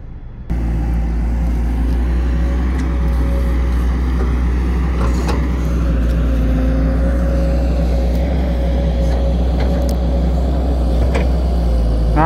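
An XCMG XE135B excavator works nearby stripping topsoil, its diesel engine droning loud and steady throughout with faint clanks and scraping above the continuous low hum.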